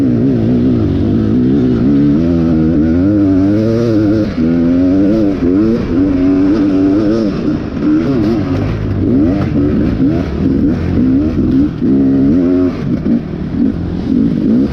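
A dirt bike revs hard through a rough whoop section at a hare scramble at Pleasant Creek Raceway in Grafton, West Virginia, with its loud engine rising and falling in rapid surges as it bounces over the bumps.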